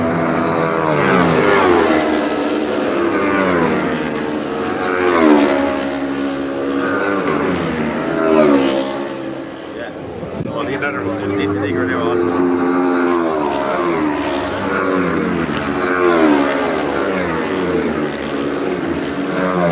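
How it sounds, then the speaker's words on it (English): Super Twin motorcycles at the North West 200 road races pass by one after another, their engines rising and falling in loud sweeping swells over about twenty seconds, with a voice talking over the din. "let's just have a look at the first lap of this Super Twin race."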